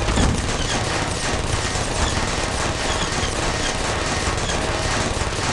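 Automated turrets in the video game Portal fire in a dense, unbroken stream of rapid shots, loud and steady from start to finish.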